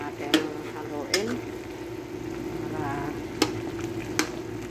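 Food with Knorr stock cubes stirred in a pot, a low steady sizzle with a few sharp clinks of a spoon against the metal, close and fairly quiet, with faint voices in the background.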